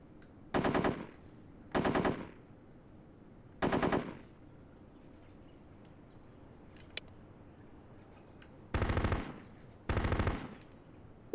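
Soldiers firing rifles in Full Spectrum Warrior on PS2: five short sharp bursts of automatic gunfire, spaced irregularly with quiet gaps between, fairly close and crisp.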